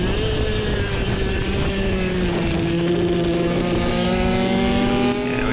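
A Kawasaki KX65 supermoto motorcycle on a track holds a loud, steady engine whine that rises and falls gently in pitch, close and continuous, with no talking.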